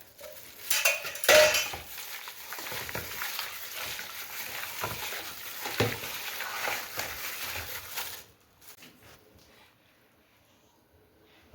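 A spoon stirs 200 g of yogurt into marinating chicken for Hyderabadi chicken dum biryani, with close, continuous scraping and clinking against the bowl for about eight seconds before falling quiet.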